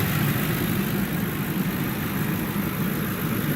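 A 2009 Ford Crown Victoria P71 engine idles smoothly and evenly, a steady low hum with no revving, close by and without any talking.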